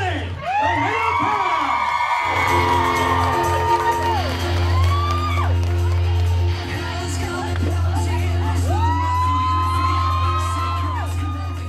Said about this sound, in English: Let me hear you scream for Nakane, the man of paradise!